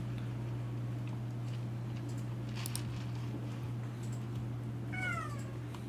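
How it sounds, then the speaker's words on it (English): A cat meows a few times near the end, rising and falling, over a steady low hum in a room during a card game session. "I got a sad kitty in the back here."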